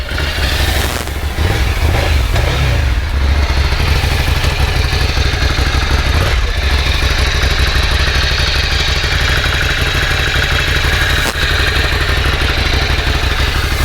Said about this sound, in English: there's your running Ducati Scrambler